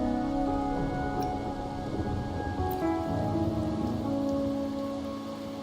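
Steady rainfall patters in the game Wuthering Waves, a continuous wash of drops laid under soft instrumental music throughout.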